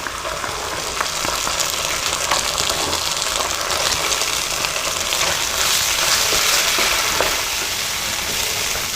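Tomato puree tipped from a Tetra Pak carton into a hot pan for chicken spaghetti, a steady loud sizzle and frying hiss that runs the whole time with small stirring and splashing noises, no voices.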